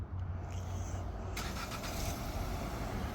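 A 2025 Nissan Kicks starts up by remote starter: a quiet stretch, then the engine catches at once into a steady, fairly close idle rumble that holds to the end.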